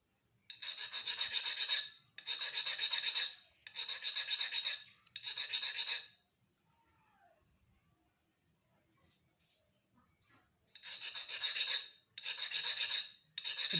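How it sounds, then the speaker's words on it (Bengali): A metal file rasps a notch on a table fan shaft in repeated bursts, four even strokes, then a quiet pause with small handling sounds, then three more close, crisp strokes. "আবার কোনো জায়গায় একটুখানি খাঁজ থাকলে সেটাকে মেরে দিতে হবে,"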